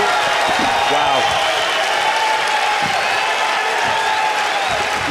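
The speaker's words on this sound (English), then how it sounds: "The crowd really showing a lot of love for both fighters here in this." A packed arena crowd at a Metamoris jiu-jitsu match, Kron Gracie versus Otavio Sousa, applauding and cheering in a dense continuous roar, with a commentator talking over it.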